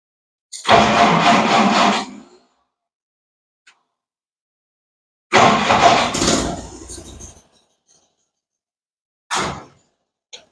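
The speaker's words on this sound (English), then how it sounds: "Not only does it run, but it idles." A Willys Overland pickup that sat for 46 years is cranked, giving two loud bursts of churning noise about two seconds each with silence between them, then a shorter third burst, with no steady idle that carries on afterward.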